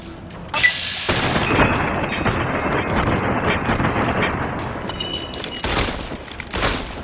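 Rapid gunfire bursts in Fallout New Vegas during VATS targeting, a loud volley of shots and crashing impacts rolling close together, then a few isolated bangs near the end.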